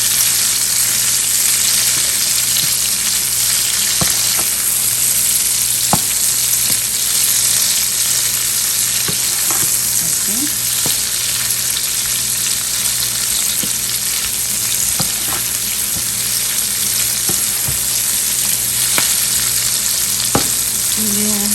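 Chili chicken tikka sizzles in a kadai with crushed red chili, black pepper, roasted cumin, turmeric and salt, a steady loud frying hiss running throughout, broken by occasional sharp stirring clinks of a utensil against the pan.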